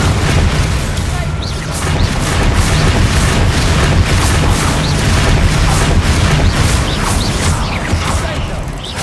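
Bombarda explosion spells from the game Hogwarts Legacy go off amid loud, chaotic combat, with repeated booms and crashing bursts over a constant rumble, and voices shouting over the din.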